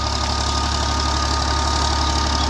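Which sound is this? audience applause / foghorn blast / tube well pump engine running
tube well pump engine running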